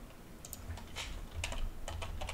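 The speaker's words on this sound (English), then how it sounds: "Okay, I can type now." Computer keyboard typed on between rounds of a Roblox zombie game, a few quick faint bursts of close key clicks over a low background hum, no talk.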